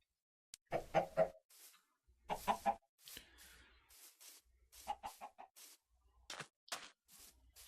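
Chickens clucking in the video game Minecraft, several short bursts of squawky clucks scattered across the clip with quiet gaps in between, moderately loud with no talking.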